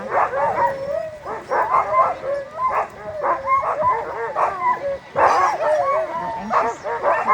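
Husky sled dogs bark, yip and whine excitedly in a near, continuous chorus while being booted up before a race in Fairbanks, Alaska, with overlapping calls and a louder burst partway through.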